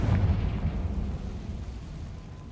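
A Confringo fire spell explodes in the video game Hogwarts Legacy, one heavy low boom at the start that rolls off into a fading rumble over a couple of seconds.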